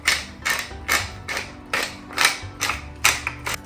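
Black pepper being ground over homemade garden pizza sauce, a close, steady run of about eight rhythmic crunchy ratcheting twists, each a short gritty burst at an even pace, with no talking.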